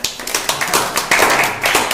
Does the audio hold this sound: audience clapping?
yes